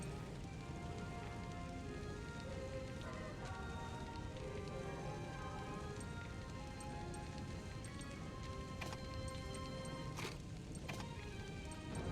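Piercing Rain attack effect in the video game Fuga: Melodies of Steel, a steady, dense patter like heavy rainfall that runs without a break throughout, with a few sharp clicks near the end.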